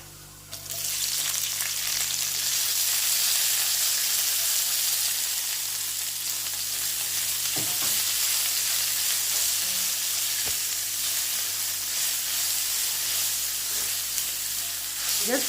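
Onion frying in a hot pan with an already browning base, a loud, continuous close sizzle with a few faint utensil clicks.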